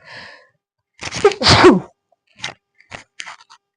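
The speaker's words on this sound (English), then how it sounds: "Gonna sneeze." A single close, forceful sneeze bursts out after a brief intake of breath, followed by a few faint sniffs and small mouth noises.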